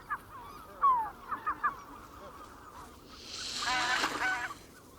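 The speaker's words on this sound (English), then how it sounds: "The large, white-fronted geese are certainly able to defend their eggs with aggressive displays." Several short white-fronted goose honks sound in quick succession on the Russian tundra, then a harsher burst of honking and hissing rises, all fairly faint and distant.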